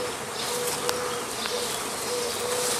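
A swarm of honey bees being collected drones in a steady, continuous buzz of many wings, dense and moderately near, with a few brief sharper tones from individual bees passing close.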